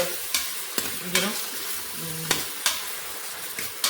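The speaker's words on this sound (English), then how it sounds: "onions saute for some time, so it brings in a flavor" Onions sautéing in a pan for a mutton dish, a close steady sizzle punctuated by several sharp spoon scrapes and taps at irregular intervals, no talking.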